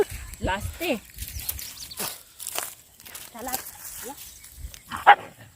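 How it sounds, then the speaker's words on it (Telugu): Dogs bark in a village setting, short sharp calls scattered across the stretch and mixed in with people talking close by. "కుక్కలు ఉన్నాయి కదా"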